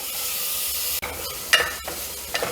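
Crushed shallots for Kerala-style mutton curry sauté in a pan, an even hissing sizzle broken by a few short stirring clinks and scrapes.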